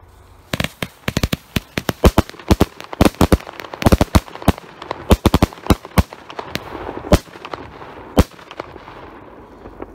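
A Splendid Flowers 25-shot firework cake fires off a rapid, irregular string of sharp, loud bangs, some overlapping in quick clusters, with crackling debris trailing between the shots.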